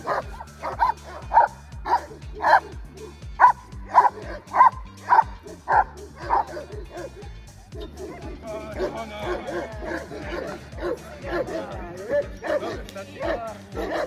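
A young Moscow watchdog barks in rapid repeated bursts during protection training, close and loud, later turning to yips and whimpers with a voice speaking under it.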